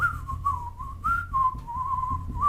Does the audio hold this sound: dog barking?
no